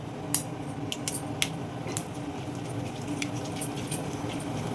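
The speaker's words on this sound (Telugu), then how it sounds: "ఇదిగోండి, ఇలాగా చిట్టపట్టలు ఆడుతుంది కదా" Mustard seeds and other tempering seeds for a brinjal curry pop and crackle in hot oil in a pan, sharp irregular crackles and pops scattered over a steady low sizzle, close and fairly quiet.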